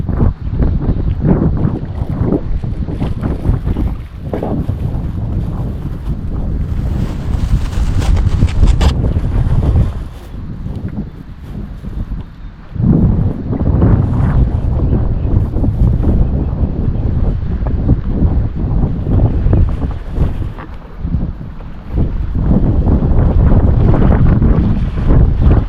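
Strong wind roars continuously across the microphone, a deep buffeting rumble that swells and dips, with no voices.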